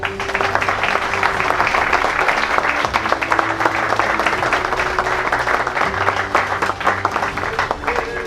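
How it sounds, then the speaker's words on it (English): A martial arts class gives a final round of applause, with brisk, fairly loud clapping from a group that runs continuously across the clip. "Last round of applause."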